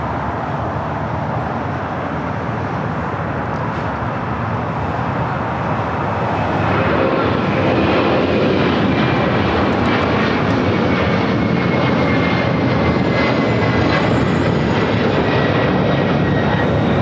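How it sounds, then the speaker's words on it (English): A former American Airlines Airbus A300 jet takes off at LAX, its engine roar building from a distant steady drone to a louder broad rush, heard alone without talk. "This former American Airlines A300 is taking off to Guadalajara"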